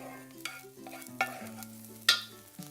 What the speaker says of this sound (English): we just want to give the rosemary a bit of a flash in the pan